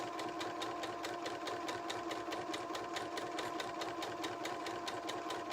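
A sewing machine stitches fabric for a book pillow in a steady, fast rhythmic whir of needle strokes, close and continuous with no pauses.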